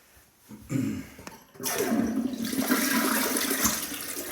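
A household toilet in a full bathroom flushes. A soft click and a brief rush come first, then a strong, steady swirl of draining and refilling water carries on to the end.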